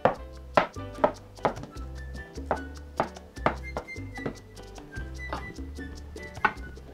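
A knife chops rolled dim sum dough for har gow in a steady rhythm of sharp, close thunks against the board, about twenty cuts in seven seconds.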